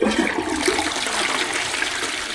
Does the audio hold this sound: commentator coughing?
no